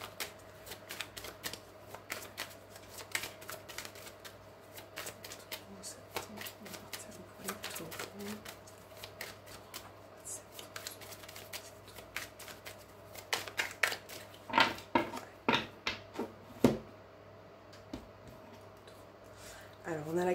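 Tarot cards being shuffled and handled, with a run of soft papery riffles and slaps that grows louder and denser toward the end, over a faint steady background hum.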